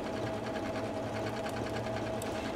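A Janome sewing machine running steadily while sewing decorative stitches, a close, even mechanical whir with a fast repeating needle rhythm, uninterrupted and without talk.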